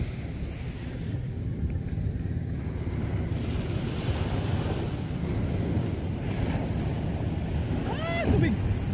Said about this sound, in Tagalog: Lumalaki ng alon.